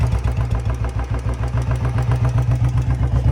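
Royal Enfield Bullet motorcycle idling steadily after its drive chain was lubricated, a close, even single-cylinder thump with a regular pulsing beat and no chain rattle.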